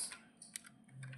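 Quiet keystrokes on a computer keyboard while a password is typed into Tally, a handful of soft, irregular taps over low room hum.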